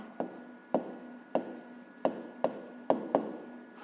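Pen or pencil writing an answer on paper in a maths exercise, a run of short strokes with scratchy rubbing between them, close and fairly quiet, no talking.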